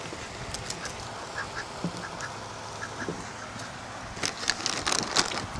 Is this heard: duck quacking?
yes